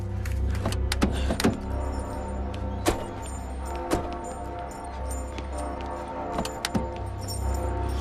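A bunch of keys jingles in short bursts during a tense roadside stop in a Christmas movie, with a steady car engine hum underneath and a few metallic clinks standing out.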